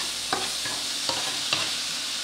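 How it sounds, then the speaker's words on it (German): Chicken pieces frying in a pan for a curry dish, a steady broad sizzle with a few soft stirring scrapes at irregular intervals, close and moderately loud, with no talking. "Das brate ich jetzt extra."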